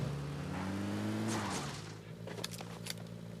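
In-game vehicle in PUBG driving with a steady engine drone that lowers in pitch and eases off partway through, followed by a few faint clicks and thuds.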